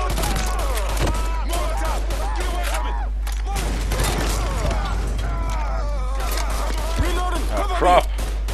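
Scattered gunfire and blasts in the video game Mafia 3 during a gang shootout, bursting irregularly beneath frequent shouted voices and the game's constant background rumble.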